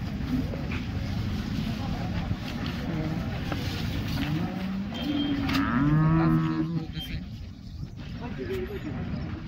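A large cow at the Modnimb livestock market gives one drawn-out, fairly loud moo over a steady crowd and vehicle hubbub, with people talking throughout.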